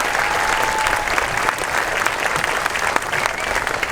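A crowd at an elementary school May Day celebration applauds the school board president, a thick continuous wash of clapping from many hands at close range, loud and steady throughout.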